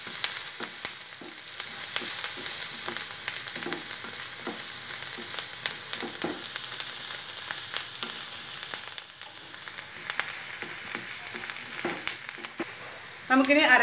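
Potato curry with turmeric frying in a pan, a soft continuous sizzle with repeated light spoon scrapes and taps as it is stirred, close and steady, with no speech.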